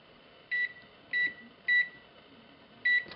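An electronic oven control panel beeps while setting it to preheat for baking pumpkin tartlets: four short, clear, evenly pitched beeps spaced about half a second apart over a faint background hum.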